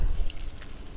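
Ordinary household water pours into a pot for boiling tussar cocoons, a close splashing rush that is loudest at the start and then settles into a steady flow.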